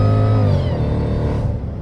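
A Mercedes E55 AMG pulls away from a standstill, its engine roaring loudly and close with a steady, rising drone that eases off near the end, and no talk over it.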